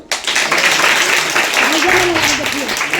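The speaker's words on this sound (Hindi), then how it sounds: "भैया के लिए ताली बजा दो" A room of listeners at a program for blind women claps for a young man, the applause starting abruptly and holding steady throughout, with a voice speaking over the clapping near the end.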